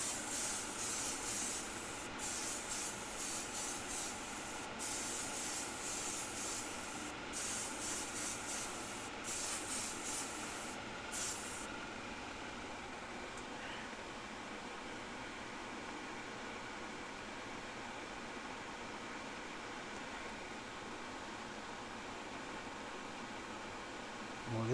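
An airbrush sprays Timbertech paint in a light dusting, a steady airy hiss interrupted by several short pauses in the first half, then a fainter continuous hiss without breaks.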